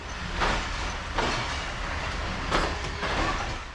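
A train pulling out of Samasata Junction in Pakistan rumbles and clatters along the tracks, with rhythmic clunks of wheels over rail joints and a steady rolling noise throughout.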